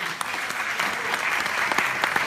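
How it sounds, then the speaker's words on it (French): An audience at a Pecha Kucha presentation event breaks into sustained applause, dense overlapping clapping that holds steady and fairly loud throughout. "vous pouvez les applaudir"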